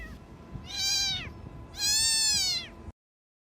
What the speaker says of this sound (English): What's that sound? It's like a cat's voice.